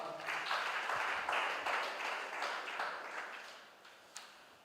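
Audience at a spelling contest clapping in short bursts, several rounds of fairly dense applause that fades toward the end, with a sharp clap near the close.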